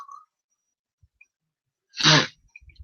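A single sharp sneeze bursts out close up after a moment of near silence, followed by faint rustling.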